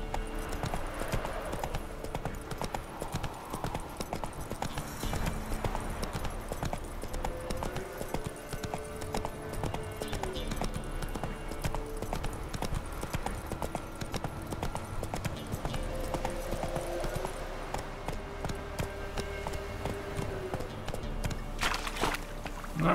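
Roach, the horse in The Witcher 3, gallops on and on in a steady rhythmic clip-clop of hooves, joined by a soft game music bed and an occasional whinny.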